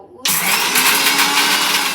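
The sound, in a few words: mixer grinder grinding coriander seeds and turmeric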